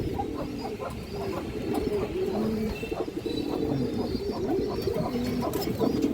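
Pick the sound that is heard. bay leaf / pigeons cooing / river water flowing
pigeons cooing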